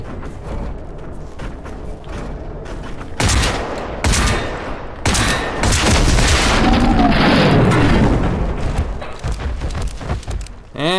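Gunfire in the shooter game Generation Zero: sustained rapid shots and heavy booming blasts, loud and dense, with bursts layered over a rumbling background and no talk.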